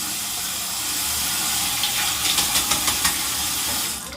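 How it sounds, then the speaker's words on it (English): Water runs steadily from a tap while a razor is rinsed during a head shave, a constant hissing flow with a quick series of splashes and knocks near the end. "Rinse your razor in cold water after each stroke or as needed."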